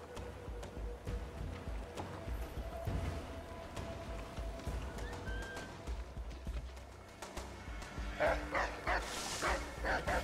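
A dog barks in Assassin's Creed III amid busy game ambience with hoofbeats and horse sounds, the barks and yips rising near the end over a continuous background din.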